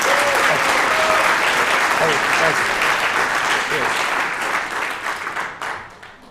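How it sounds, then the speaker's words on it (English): Loud audience applause after a talk at a London conference, dense clapping that holds steady and then thins out and fades toward the end, with some voices mixed in. "Keep the applause going for Tamsin, ladies and gentlemen."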